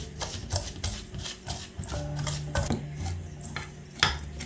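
A small whisk beating a brown sugar mixture in a bowl, a quick rapid clatter of metal wires against the bowl with rhythmic scraping, close and fairly loud.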